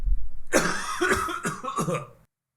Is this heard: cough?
yes